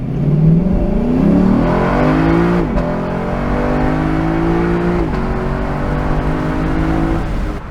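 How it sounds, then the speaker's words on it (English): A 2022 Lexus LC 500 Convertible revs hard through the gears, with engine pitch climbing, dropping at each shift near 2.7 and 5 seconds, then climbing again in a loud, close, continuous roar. "I can't stop accelerating this car."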